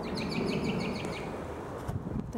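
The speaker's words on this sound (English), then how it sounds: "that's a bird up in the tree." A bird calls from up in a tree in a forest, a run of about six quick, repeated chirping notes early on, moderately near over steady rustling background noise, fading after about a second.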